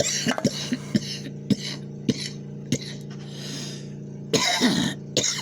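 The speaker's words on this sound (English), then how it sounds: "Trying to cough this shit up out of my lungs" A person coughs repeatedly in short, harsh bursts after smoking cannabis, ending in a long rough coughing fit over a low engine hum.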